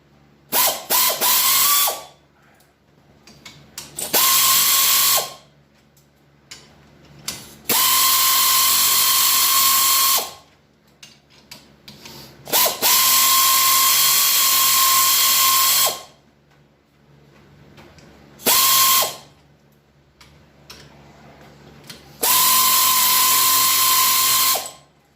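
A spring compressor is tightened on the spring of a 2019 Can-Am Outlander 1000R XT. Loud, buzzing, ratchet-like power-tool bursts of about two to three seconds repeat six times, with quiet gaps between them.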